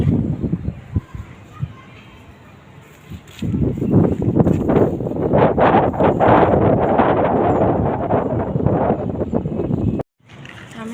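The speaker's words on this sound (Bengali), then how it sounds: "ছাদে অনেক বাতাস।" Strong wind gusts across a rooftop in Bangladesh roar loudly into the microphone as a continuous buffeting rumble for several seconds, with children's voices and talk faintly underneath.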